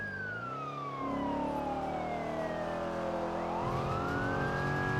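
A police siren wails in a video game, rising and falling over steady engine drone on a freeway with no talk.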